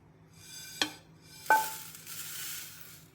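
Coriander seeds dry-roasting in a pan for homemade Goan garam masala, with two sharp scraping stirs followed by a soft rustling sizzle, close and fairly quiet.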